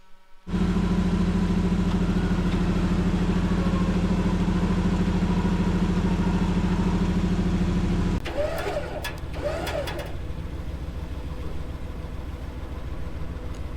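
A vehicle engine running hard with a loud, steady high-revving drone while pulling a stuck vehicle hung up on a cut stump, then easing to a lower rumble with a few sharp clanks.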